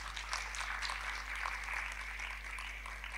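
Audience applause at a youth mission gathering panel discussion, a steady wash of clapping from a crowd that holds evenly for a few seconds with a low hum underneath.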